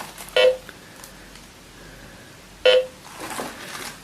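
A metal detector sweeping over scattered iron nails in a hidden room beneath a junked car in a forest gives two short, clear electronic beeps a couple of seconds apart, with faint background noise between them.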